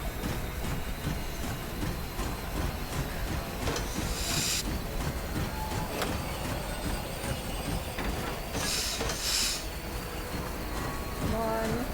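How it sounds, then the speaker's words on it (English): A steam train engine chugs along in The Long Dark, a steady dense rumble and hiss filling the whole stretch, with two bright bursts of venting steam partway through and a voice talking over it. "We got this train. With a little engine that could."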